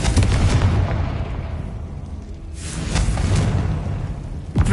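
Confringo blasting spell from the Hogwarts Legacy video game on PS5, a loud dense booming blast with rumbling low end, followed by a second burst swelling midway and a sharp crack at the very end.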